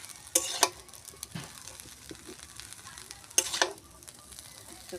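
Chowmein and vegetables stir-frying in a little oil, a quiet sizzle punctuated by two sharp bursts of scraping and tossing a few seconds apart.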